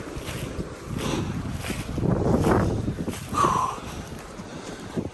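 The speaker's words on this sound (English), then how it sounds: "You can probably hear the wind." Wind gusts blowing outdoors in a quiet natural setting, a steady broadband rush that swells and eases over a few seconds, close and fairly loud with mic buffeting, no talk.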